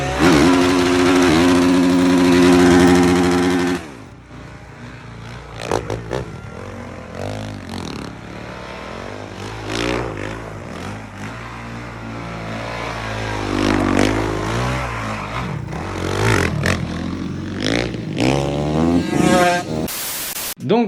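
Motorcycles ridden hard, loud engines revving and rising and falling in pitch through repeated accelerations and gear changes, with harsh wind noise and a loud static-like burst at the start.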